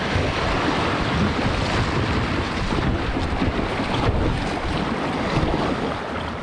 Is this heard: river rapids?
yes